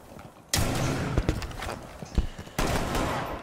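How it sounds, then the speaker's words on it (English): Gunfire in the video game Rainbow Six: a sudden loud burst of shots, then scattered individual cracks, then another sustained volley near the end, with no talking. "In they came, guns blazing."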